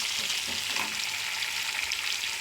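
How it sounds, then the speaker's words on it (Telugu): Onions and green chillies fry in a pan, a bright, even sizzle that holds steady throughout with light crackle and no talking. "ఆనియన్స్, పచ్చిమిర్చి వేసుకొని వేయించుకోవాలి"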